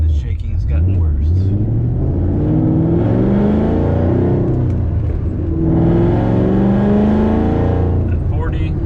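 A car with a shaking fault accelerates hard up to speed, its loud engine drone climbing steadily in pitch, easing briefly, then rising again.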